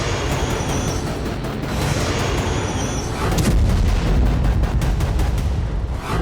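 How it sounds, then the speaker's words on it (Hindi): A guided bomb strike in Luhansk, with loud sustained blast rumble and crackling debris that swell stronger midway and continue without voices. "जबरदस्त धमाके का ये वीडियो लुहांस्क का है। दावा है कि ये हमले GLSDB यानी ग्राउंड लॉन्चर स्मॉल डायमीटर बम से किया गया।"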